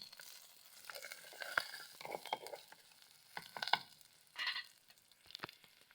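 Pandan leaves and dried fish frying in a pan, soft crackling sizzle with intermittent sharp pops and stirring scrapes, fairly quiet and close.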